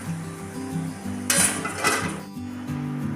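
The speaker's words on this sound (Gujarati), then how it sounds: "ઢાંકણ બંધ કરી દઈશું બે મિનિટનું" A lid being set down on a cooking pot of mung bean curry and rice, giving a brief metallic clink midway over a steady low hum of the stove, close but quiet.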